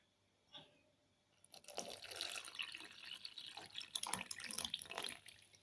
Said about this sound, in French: puis nous rajoutons l'eau